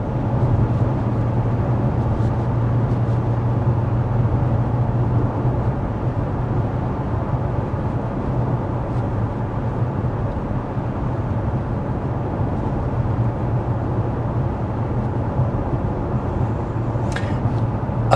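Inside a 2024 Mazda CX-5 at 55 mph with the fan on speed 1, a steady low road and engine drone with broadband wind hiss fills the cabin, continuous and even, no talking.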